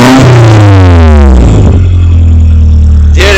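A car engine with its exhaust refitted revs hard and loud up close, the pitch sweeping downward as it drops back toward a steady idle, then a brief blip of throttle at the end.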